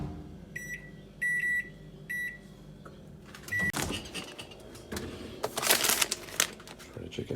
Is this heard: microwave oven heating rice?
yes